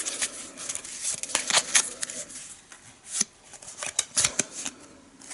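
A deck of cards for the Eldritch Horror board game being shuffled, a run of crisp riffling bursts and soft flicks repeating over several seconds, close and alone with no talk.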